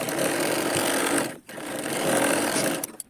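A sewing machine runs in continuous bursts while stitching a katori blouse, a dense steady whirr with one brief pause partway through, close and loud with no talk.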